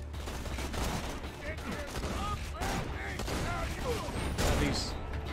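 Torque shotguns fire in Borderlands 2, a dense run of overlapping shots and explosions under game effects and voices, continuous and moderately loud throughout.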